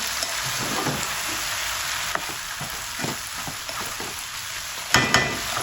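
Masala okra (bhindi) is stirred in a frying pan, with a steady oily sizzle and scattered soft scrapes of the spoon throughout, then a couple of sharper knocks near the end. No one speaks.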